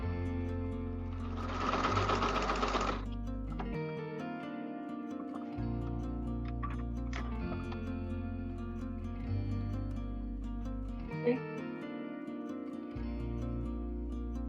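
A sewing machine stitches a homemade fabric mask nearby, its steady motor hum and needle chatter running in several runs separated by short pauses, with a brief burst of rustling early on.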